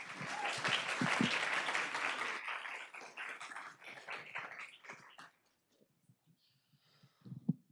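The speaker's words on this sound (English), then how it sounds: "Let's give him a round of applause." Audience applause fills a school board meeting room, loud steady clapping from many people for about five seconds before fading to near silence with a few scattered sounds.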